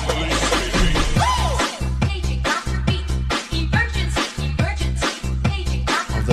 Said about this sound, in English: Jaku Grobler van Bethel tells me that this is the sound of the Paging Dr. Beat.